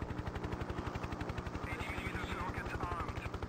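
Helicopter turret gun firing in the 1996 video game Hind, a rapid steady stream of evenly spaced shots over a constant rotor drone, loud and close.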